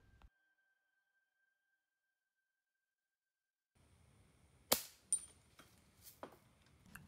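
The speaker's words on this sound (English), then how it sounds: "Let's do some plinking now with the Buck 105." A Daisy Buck 105 BB gun fires at plinking targets 25 yards off, with several sharp snapping shots and faint metallic clangs spaced across the second half after a quiet stretch.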